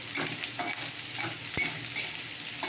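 Besan fritters frying in oil, a steady close sizzle with regular soft spatters and a sharp scrape of a spatula against the pan.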